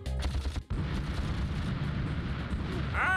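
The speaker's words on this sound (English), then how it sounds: "It already exploded!" An explosion in the Ratchet and Clank video game, a heavy rumbling blast that fills the clip after a brief gap, with a short ringing tone rising near the end.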